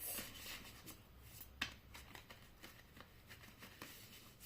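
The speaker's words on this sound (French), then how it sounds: "Donc je vais bien mélanger les cartes." Oracle cards are shuffled by hand in a quiet room: a series of soft, papery riffles and taps with one sharper snap, close and faint, with no voices.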